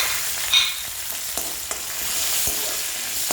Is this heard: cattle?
no